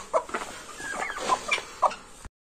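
Several chickens cluck and squawk in quick, uneven bursts, fairly close and loud, with a low background hum, cutting off abruptly near the end.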